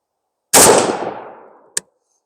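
A single sharp rifle shot fired from a shooting table cracks out loud and close, its report decaying over about a second, followed by a brief metallic ping.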